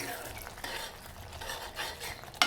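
Spoon stirring arhar dal with spinach curry in a pan, a soft scraping and faint sizzle with occasional light clinks of utensil against metal, close and steady without talk.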